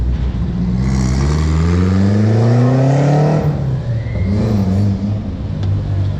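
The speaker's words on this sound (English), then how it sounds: "Looks like some rally cars are around here." Modified rally car on a city street, its engine revving loud and close with rising and falling pitch through gear changes, then settling into a rough idle, with no talk over it.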